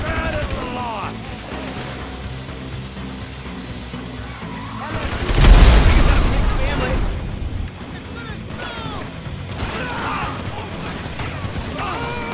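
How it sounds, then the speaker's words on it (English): A grenade launcher fires in Grand Theft Auto V, giving one loud boom with a burst of explosive impact near the middle, set against game noise and someone shouting. "Grenade launcher!"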